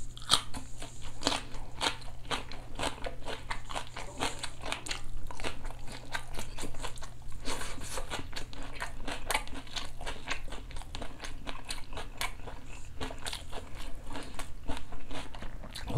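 Crunchy bites and steady chewing of a handmade burger, close and loud, repeating in an irregular rhythm throughout with no talking.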